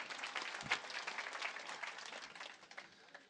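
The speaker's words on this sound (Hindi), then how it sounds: "एक बार जोरदार तालियां बजा दीजिए आप" Steady applause from a crowd at a Hindi poetry recital in Bheemgarh, many hands clapping continuously and gradually fading toward the end, fairly distant.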